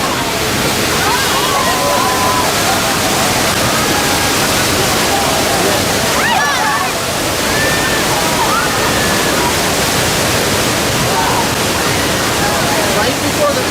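Loud, constant rush of water gushing from a burst water main after an earthquake, roaring and sloshing throughout, with people talking underneath.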